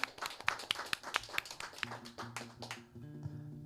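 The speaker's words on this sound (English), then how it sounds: "Let's give them a round of applause." A small crowd at a live music show claps for the band, scattered sharp claps that thin out as a low musical hum and tones rise beneath them.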